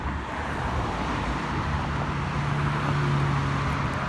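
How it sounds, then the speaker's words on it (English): A Metro city bus moves along the road amid traffic, a moderate, steady roadway hum with a faint engine whine building slightly toward the end, no talk. "Now the Metro bus."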